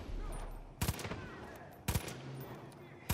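Two sharp, loud ARC rifle shots ring out about a second apart in Far Cry 5, each with a brief echoing tail, over a low in-game ambient rumble, and a third shot cuts in at the very end.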